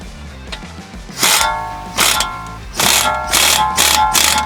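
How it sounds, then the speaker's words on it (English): An impact wrench tightens suspension nuts on a daily-driver car outdoors in the wind, four loud close rattling bursts, each burst short with brief gaps between them. "Grab our impact and tighten that nut down."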